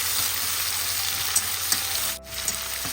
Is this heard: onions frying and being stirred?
yes